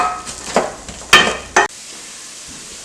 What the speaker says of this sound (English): the cinnamon stick, the bay leaves and the cardamom pods, and just give that a little stir.